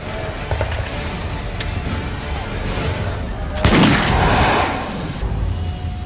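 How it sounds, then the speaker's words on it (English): Gunpowder weapons go off as an effect in a rolling burst of loud, overlapping gunshots, with one sharp crack standing out and a rumbling volley that swells, then dies away. "Europeans pick up on the idea, embracing and perfecting gunpowder weapons."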